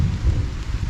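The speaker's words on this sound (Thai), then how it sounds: "โอ้ฝนไหลพี่น้องเอ้ย" Heavy rain pouring steadily as a dense, close wash of noise with no voices.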